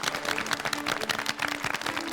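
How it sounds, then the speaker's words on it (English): Contestants on the MasterChef set burst into a short round of dense, steady clapping and applause, close and lively, lasting a couple of seconds. "Give yourself a round of applause."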